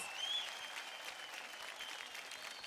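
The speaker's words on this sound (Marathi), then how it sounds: "तेव्हा जोरदार टाळ्या होऊन जाऊ द्या." Steady audience applause fills a TV dance competition studio, a dense, even wash of clapping from a crowd that holds at one level for the whole stretch, with no voices over it.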